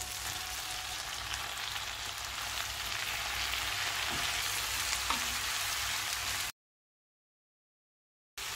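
Shallots and tomato sautéing in a pan for mint chutney, a steady close sizzle and crackle with a few faint stir scrapes, running unbroken before cutting to silence near the end.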